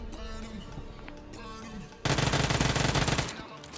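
Gunfire in the BGMI (PUBG) video game: scattered single shots, then a loud rapid automatic burst about two seconds in that lasts over a second before fading.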